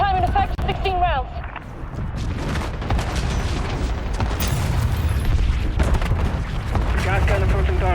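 Napalm incendiary strike in a first-person shooter video game: dense, continuous rumbling blasts and booms rolling on for several seconds, with voices talking over the top at the start and end.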